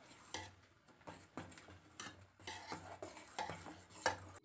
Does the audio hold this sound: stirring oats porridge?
yes